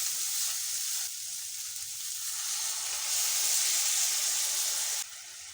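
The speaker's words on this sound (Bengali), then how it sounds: "এবার একটু জল দিয়ে দেব।" Water poured into a pan of browned, spiced meat for savoury meat pitha sets off a loud, steady sizzle and hiss that swells briefly midway, then drops suddenly near the end. No one talks.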